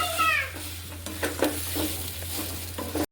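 A semolina milk cake mixture is stirred in a wok, with soft sizzling and repeated scraping strokes of a spoon against the pan, fairly close and steady in rhythm.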